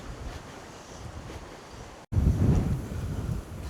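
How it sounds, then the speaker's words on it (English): Strong wind blows beside the River Tweed during fly fishing, roaring and buffeting the microphone in continuous loud gusts, with a brief cut-out midway before the blast returns even harder. "Well, the wind is just ridiculous."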